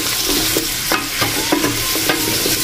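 Vegetables fry in a pan with a steady sizzle while a utensil stirs and scrapes them in quick repeated strokes, close and loud, with no talk.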